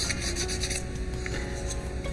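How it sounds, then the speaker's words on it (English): Plastic part from an Italeri 1:35-style VW Type 82 Kubelwagen model kit being sanded by hand, a steady close rasping rub with quick repeated strokes, no talking. "Not a lot of sanding, just a little bit."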